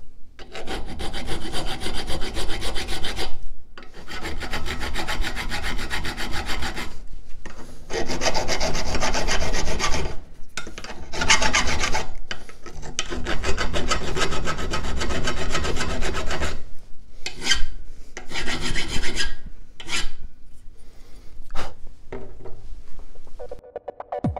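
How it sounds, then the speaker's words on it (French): Metal is being filed off the sides of a homemade freewheel removal tool, making close, steady rasping strokes in bursts separated by short pauses, with no talking. "je vais enlever un petit peu de matière sur les côtés parce que ça rentre vraiment très juste"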